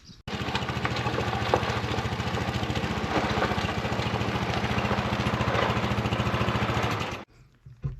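Quad bike engine idling steadily and close by on a farm, a loud even putter lasting several seconds before cutting off abruptly, with no talking over it.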